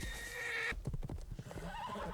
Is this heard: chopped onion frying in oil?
no